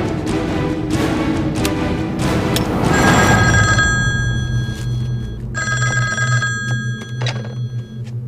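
A telephone bell rings loudly in two long, trilling bursts, separated by a short pause, with dull thumps and a low hum underneath, in an indoor scene.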